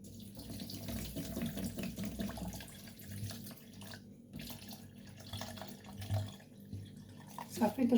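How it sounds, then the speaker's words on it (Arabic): Water is poured from a tap into a glass of lemons and limes for juice, a gentle splashing pour with a few clinks near the end. "نزيد عليهم الماء"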